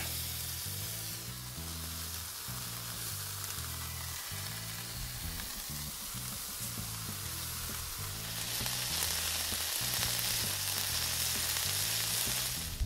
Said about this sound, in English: we're going to cook it on the other side for another one minute, just to cook in that sauce, that bourbon sauce